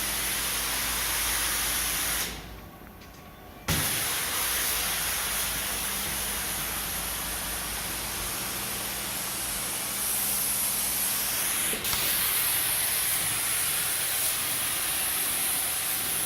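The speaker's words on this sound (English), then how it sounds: "We're just applying some pre-treatment to this tile." Pre-treatment cleaner sprayed onto a large area of slick ceramic tile, a steady loud hiss running continuously with one brief drop partway through, close up and without speech.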